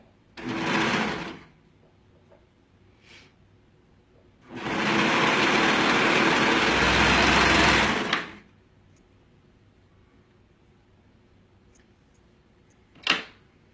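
A sewing machine stitching the side seams of a facing runs in a short burst, then a steady, louder run of about four seconds, with a brief click near the end and quiet pauses between.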